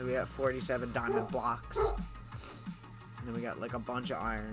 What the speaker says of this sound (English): You can probably hear the dog barking in the background of my video